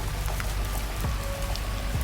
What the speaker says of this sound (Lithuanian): Lietus tokioje šviesoje girdisi dar aiškiau.